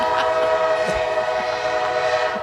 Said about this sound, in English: I hear the train a coming